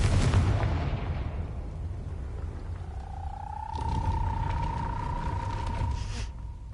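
A Confringo spell explodes in a Harry Potter video game: a loud, booming blast that decays into a rumbling tail, with a steady ringing tone and hiss trailing over several seconds.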